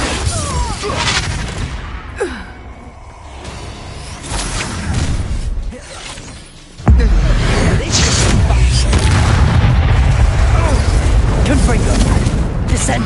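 Spell blasts in a Hogwarts Legacy battle on PS5: a loud boom hits near seven seconds and dense crashing, whooshing explosion noise follows, heavy and continuous, with a voice calling out spell names over the effects.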